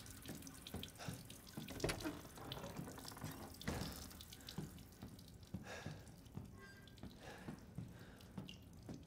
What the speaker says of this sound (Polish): O, woda.